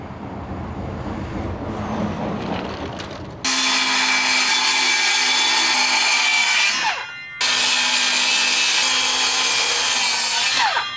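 A power saw cuts through wooden supports in two long, loud, steady passes with a brief pause between, after some quieter handling noise.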